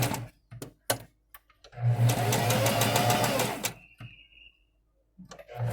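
A sewing machine stitches fabric in a short burst of fast, close, rhythmic whirring, set between scattered clicks and handling noises, with brief pauses around the run.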